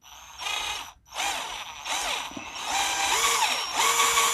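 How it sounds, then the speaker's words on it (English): A power drill with a small bit whirs in several bursts, pausing briefly near the start, then running steadily with rising and falling pitch as it widens a channel in a Hot Wheels Bugatti Chiron die-cast car, close and loud. "what we're going to want to do is get our drill and our little drill bit here"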